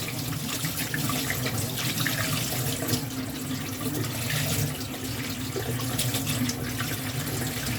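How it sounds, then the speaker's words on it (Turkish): Hands being washed under a running kitchen tap. A steady, full rush of water splashes continuously into the sink throughout, with no talking. "Elimizi yıkayalım."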